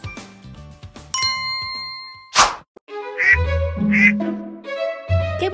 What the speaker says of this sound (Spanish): ¡Qué bonitos los patos!